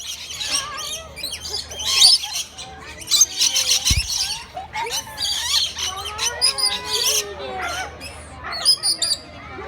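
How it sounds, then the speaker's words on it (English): Pet birds climbing over a person squawk and chirp loudly and close, a dense run of shrill calls and tweets with one brief low thump partway through. "It's hard to video with birds climbing all over me."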